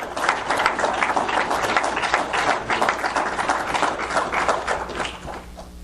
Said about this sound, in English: I'd like for you guys to give a warm applause to Mr. Eric DeLong